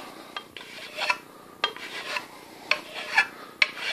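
A fine metal file is drawn repeatedly across a steel knife blade to clean up a saw kerf mark. The rasping strokes are close and evenly paced, with about seven scrapes in steady rhythm and brief pauses between them.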